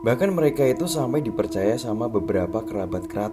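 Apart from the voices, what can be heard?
No distinct noise like a dog, phone or traffic.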